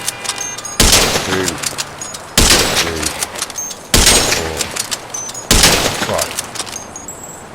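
Four loud, widely spaced gunshots from GTA V Online, each fired into a parked car to lower its suspension, with a voice counting between the shots.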